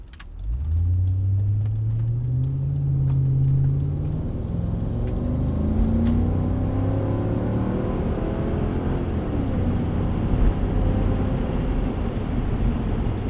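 Interior of a 2000 Mercedes-Benz ML55 AMG while driving: a muted, low engine drone rises and falls through gear changes, with steady road rumble and a few light cabin rattles, no talking.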